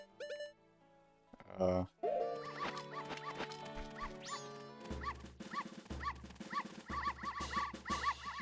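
Small cartoon dogs in the Zelda: Majora's Mask dog race yip and bark in quick, high bursts, with chiptune-style game music playing along. A person talks over parts of it.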